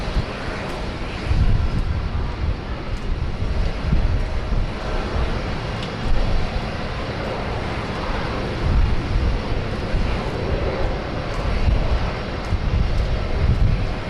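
Malaysia Airlines airliner, flight 122 bound for Kuala Lumpur, taxiing along a taxiway at Sydney Airport: a steady broadband jet engine roar with low rumble and wind buffeting, holding fairly constant throughout with no voices.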